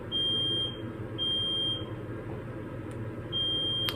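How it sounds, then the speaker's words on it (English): A smoke alarm set off by cooking steam shrills in three long, even beeps spaced about a second apart, loud over a steady low household hum. "Fire alarm's coming off,"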